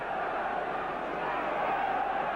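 A football crowd of about 48,000 at Aston Villa's 1982 European Cup semi-final first leg against Anderlecht, a steady distant roar of massed voices throughout.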